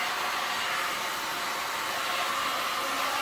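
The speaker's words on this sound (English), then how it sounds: "I've been known to use my heat gun a little bit too much." A heat gun blows steadily over a round resin pour, a constant close airy whoosh like a hair dryer running without pause and no voices.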